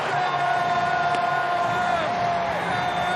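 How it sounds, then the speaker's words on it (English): Sellout baseball crowd at Petco Park in the eighth inning of a Padres–Reds game, a dense, steady roar of cheering and crowd noise that holds throughout, with a shrill whistle-like tone running over it. "Capacity crowd, a sellout at Petco Park. They are all fired up for the Padres to add on to this 2-0 advantage here in the 8th."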